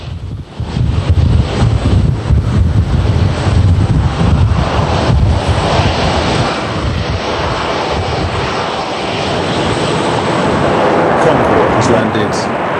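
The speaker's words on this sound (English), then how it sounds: "You can hear the reverse thrusters there being applied by the pilot to slow it down." An airliner landing at JFK roars loudly as the pilot applies reverse thrust to slow it down. The thrust makes a sustained, close, broadband rush with wind buffeting, and it fades slightly toward the end.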